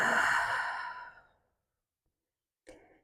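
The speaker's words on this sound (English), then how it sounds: "And exhale out the mouth." A single long, breathy exhale out through the mouth during a yoga flow in child's pose, fading over about a second, followed by silence and a brief soft breath sound near the end.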